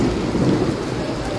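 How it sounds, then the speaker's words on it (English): A heavy thunderstorm in Malaysia: loud rumbling thunder rolls over a dense, steady hiss of pouring rain close by, with no voices. "The thunder is so loud,"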